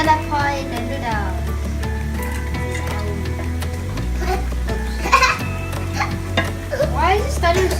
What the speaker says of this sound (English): I'm gonna pour in the noodles.